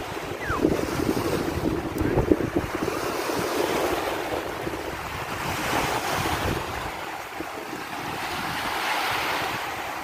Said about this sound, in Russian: Немножко ветер, конечно, но пляж довольно-таки длинный